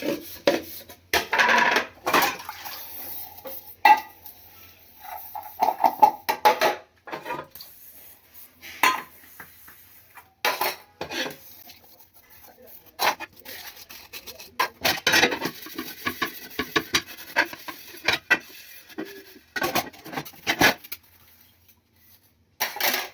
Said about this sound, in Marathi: भांडी घासताना आवाज होतो होऊ द्यायचा